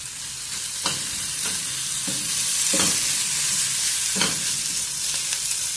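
Garlic and coriander sauté in a pan for radish chutney with a constant close sizzle, while a spoon scrapes and stirs at intervals in short, regular strokes.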